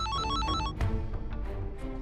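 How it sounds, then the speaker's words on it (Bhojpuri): A telephone call from a mansion rings with a repeating electronic ringtone. The rings are close and fairly quiet over a low background hum. "निर्भय के हवेली से फोन।"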